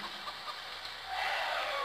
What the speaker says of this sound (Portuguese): Toma uma galinha pra tu.